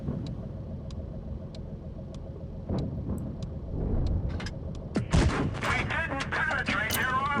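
E 50 tank cannon shots in a video game, a couple of loud booming blasts in the latter half over a rumbling engine drone, with crackling impacts following.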